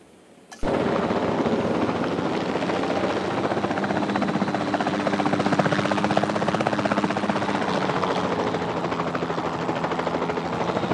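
A helicopter in the video game Jurassic World Evolution 2 kicks in abruptly and holds a loud, steady rotor-and-engine drone with a faint rhythmic chop, continuing alone without a break.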